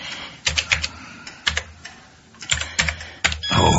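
Fingers type on a computer keyboard in uneven bursts of close, crisp key clicks separated by short pauses, with a faint rustle building at the end; no one speaks.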